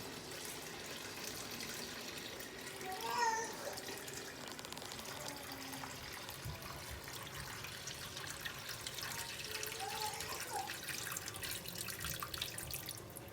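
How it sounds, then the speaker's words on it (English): Water from boiled green bananas is poured off and trickles into a kitchen sink, a faint, steady splashing and dripping with a brief clatter near the start. "let me drain the excess water out"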